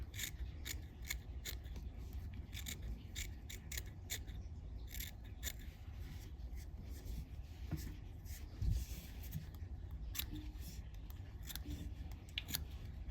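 Curved scissors snip repeatedly while a fishing fly is tied, trimming material at the vise; sharp close cuts come in irregular bursts over a low steady room hum, with no talking.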